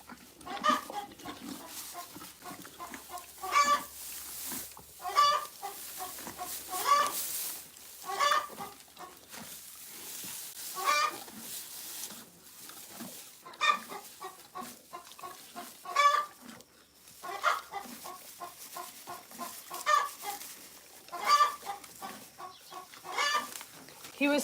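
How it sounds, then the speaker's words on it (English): Chickens cluck repeatedly in short, bright bursts at a farm, fairly close and fairly loud, with other farm animal sounds mixed in and occasional quiet talk beneath. "Oh, that chicken needs to go away."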